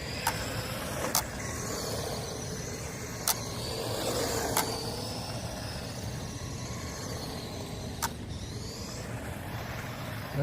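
A GPTOYS S926 1:12 scale 4x4 RC truck driving and drifting, its electric motor whirring steadily with a few sharp clicks and ticks scattered across about ten seconds, and no talk.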